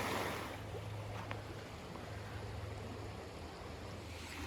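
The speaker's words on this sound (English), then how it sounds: "And this here is a water fountain." Steady rushing water from a stone water fountain runs continuously at a moderate level in snowy Spring Mill State Park, a broadband splashing wash with no voices.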